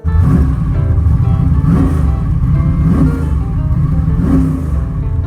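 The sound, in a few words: twin turbo five-speed Monte Carlo driven up the road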